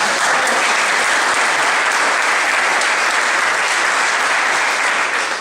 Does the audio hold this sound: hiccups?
no